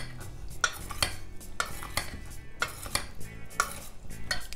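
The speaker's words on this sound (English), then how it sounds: "But this time I'm going to give it a couple of stirs." A Caprese salad of tomato and mozzarella being stirred in a bowl, several soft scraping and clinking strokes in an uneven rhythm, close and fairly quiet.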